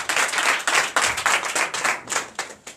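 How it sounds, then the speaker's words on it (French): Church congregation clapping in quick, uneven bursts of hands, fairly loud and close, with no voices over it. "Donnez de vives acclamations à l'Éternel."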